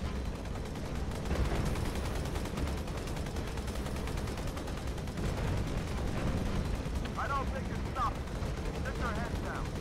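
Rapid turret gunfire in Halo 2 Anniversary rattles on continuously as sustained automatic bursts, with players talking over it and sharper game effects near the end.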